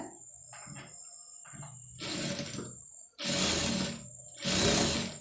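A sewing machine stitches invisible thread piping right along its edge in short bursts, each run of fast mechanical whirring louder than the last, with quieter clicks and handling between them.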